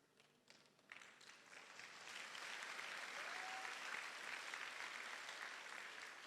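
Youth camp audience breaking into applause, starting with a few scattered claps and swelling into a full, sustained round that carries through to the end.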